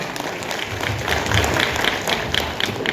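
Dense, steady applause from an audience filling a hall on a Sunday morning in Pune, sustained at an even, moderately loud level for the full stretch.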